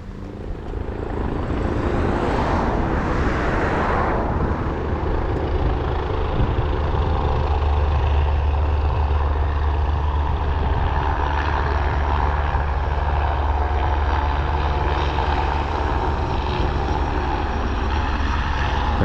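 A skydiving airplane flies over an airfield at Castellón, its engine a loud, steady droning hum that carries on unbroken for the whole stretch, with a faint swell near the start and no talking.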